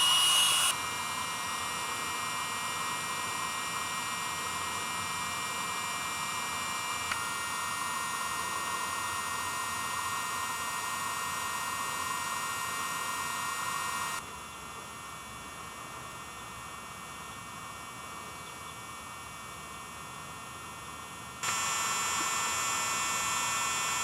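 A Thermarest NeoAir Micro Inflator pump runs steadily while inflating a sleeping pad, giving a continuous close whirring hiss with a high motor whine. The level drops partway through and later rises again.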